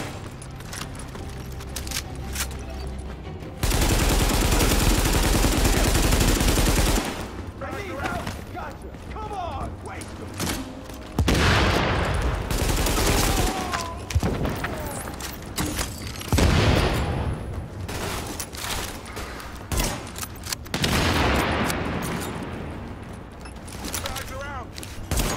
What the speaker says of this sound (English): Oh my god, that's a grenade launcher!